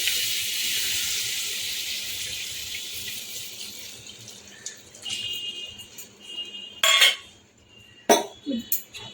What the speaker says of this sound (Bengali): ভালো করে নেড়ে ফেলে নেব